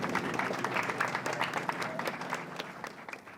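An audience at a Middle Tennessee State University topping-out ceremony for the aerospace flight operations building applauds for a round of applause honoring the Board of Trustees, steady dense clapping at moderate distance that fades toward the end.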